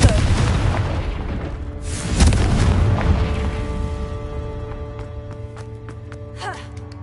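A Confringo blasting spell in a wizarding game erupts in a booming explosion that rumbles and fades, then a few sharp, lighter cracks and chimes ring out as the blast dies away.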